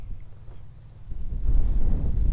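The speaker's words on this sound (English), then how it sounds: "I don't know if you can hear, it's a little windy out" Gusty wind outdoors buffets the microphone in a low, rough rumble that swells louder partway through and stays strong to the end.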